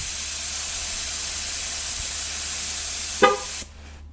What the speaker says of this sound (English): You heard that? Honk.